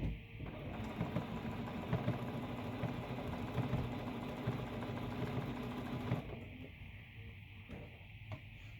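A sewing machine runs steadily at close range, stitching a gathered ruffle onto a quilt edge, its motor hum and rapid needle rhythm continuous for about six seconds before easing to a quieter, intermittent whir.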